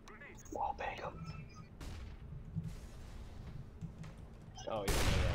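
Gunfire in the video game CS:GO, a few sharp shots and bursts scattered through a busy in-game mix of footsteps and ambience, with a loud blast near the end.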